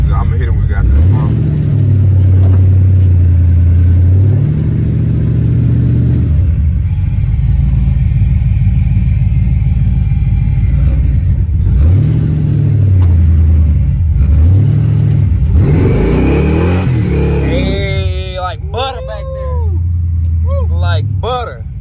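A 1988 Monte Carlo fitted with new 3.73 gears revs and accelerates inside the car, its loud engine drone rising and falling in repeated surges. Tire squeal joins near the end, and people talk over it.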